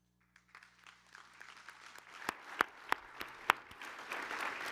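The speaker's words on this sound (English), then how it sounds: "one more round of applause in honor of her award" Scattered hand claps build into modest applause from an audience at an alumni awards ceremony, starting sparse with a few sharp, distinct claps before thickening into a quieter, steady patter.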